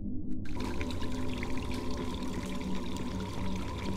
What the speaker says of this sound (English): There's a lot of water flooding the space.